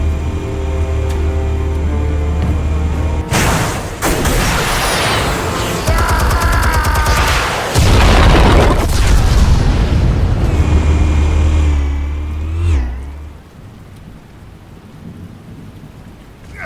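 Explosives going off in the Batman Telltale game, loud rumbling blasts and crackling bursts that roll through the mix and then fade to a quieter tail.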